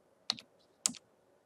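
A password is typed on a computer keyboard: two quiet, distinct key clicks about half a second apart, close by in an otherwise quiet room.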